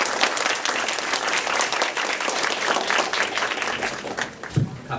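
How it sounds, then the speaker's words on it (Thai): Applause from a seated audience welcoming a speaker at a Thai youth forum on AEC readiness, steady dense clapping throughout, loud and sustained with no talking over it. "อยาก ให้ทุกท่านปรบมือต้อนรับคุณอภิรัตน์ด้วยค่ะ"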